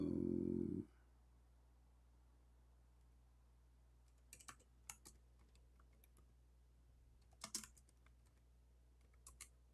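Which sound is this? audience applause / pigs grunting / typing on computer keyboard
typing on computer keyboard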